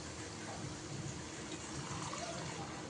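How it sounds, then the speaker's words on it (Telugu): Quiet, continuous gushing of water being poured into a cooking pot, a soft steady splashing that stays low and even for the whole stretch. "కొన్ని వాటర్ వేసేస్తున్నాం, మిక్సీ కడిగిన వాటరు"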